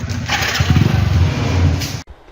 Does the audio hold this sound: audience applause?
no